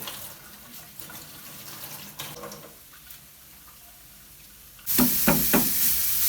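Fresh coriander rinsed under running water in a village kitchen, a soft trickle that turns into a loud, close gush of splashing water toward the end.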